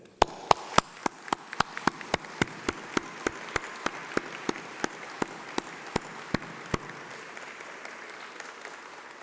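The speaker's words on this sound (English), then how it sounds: "let's have a round of applause for all those special people" Graduation ceremony applause at UCLan in December 2021: a broad, steady crowd wash with sharp, evenly spaced claps from someone close by, the loud claps stopping partway while the softer clapping thins toward the end.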